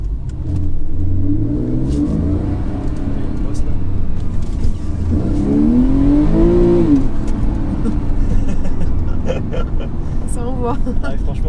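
A Porsche 997 Carrera 4S engine pulls hard while driving, its loud tone rising through the revs, easing, then climbing again to a higher peak before dropping into steady road rumble with clicks.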